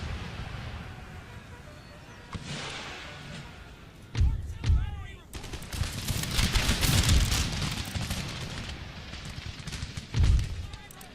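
Massed musket volleys from line infantry in the historical strategy game Empire: Total War, with American troops on the field: sharp cracks followed by a long, loud rolling crackle of fire, then another report, under shouted orders.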